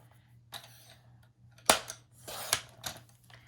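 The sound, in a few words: scissors cutting paper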